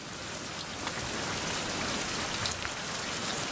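Rain falls in the survival video game Survival: Fountain of Youth, a dense, even patter of drops on surfaces that stays steady and moderately loud throughout, with no speech.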